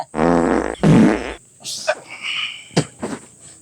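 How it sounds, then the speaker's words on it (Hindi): Two loud, close fart sounds in quick succession, each a buzzy sputter lasting under a second, followed by fainter squeaky and clicking noises in a quiet room during an Awadhi comedy sketch. "अरे जहाँ 4 दिन रहते वहाँ जरूरी है पादब"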